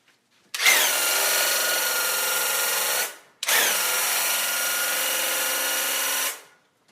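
A Graco handheld airless paint sprayer with a 312 FFLP tip sprays a test pattern, two steady hissing bursts of about two and a half seconds each, loud and close, separated by a short pause.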